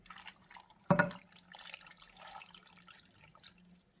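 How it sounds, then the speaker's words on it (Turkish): Garlic sauce is poured over a red beetroot salad with one soft wet splat, then a faint trickling, liquid sound. "Şimdi artık sosumu da bu pancarın içine ilave ediyorum."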